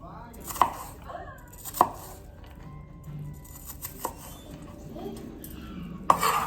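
Red onion chopped with a knife on a cutting board, several sharp separate knocks spaced unevenly, with faint kitchen clatter between.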